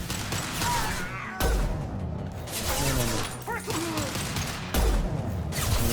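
Gunfire in the video game Mass Effect Legendary Edition, with dense bursts of shots and impacts mixed with music, effects and clatter.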